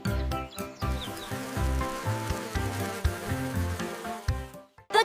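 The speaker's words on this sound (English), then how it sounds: "The bee gives us sweet honey." A cartoon bee buzzes over a bouncy children's music track, a thin droning hum that wavers steadily for a few seconds.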